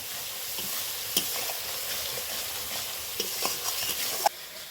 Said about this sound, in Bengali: এখন এই বাকি মশলাগুলোও এখন ভালোভাবে আমি কষিয়ে নেব